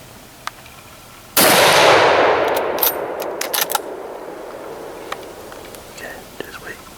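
A single loud rifle shot cracks out during a Pennsylvania deer-hunting rifle season, its echo rolling away across open ground, followed by faint rustling and quiet whispered talk nearby.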